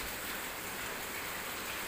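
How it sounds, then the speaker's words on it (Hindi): Heavy rain pours steadily on a garden during hot weather, a dense, continuous hiss close by with no voices. "आपको आवाज़ आ रही होगी, बहुत तेज़ बारिश हो रही है"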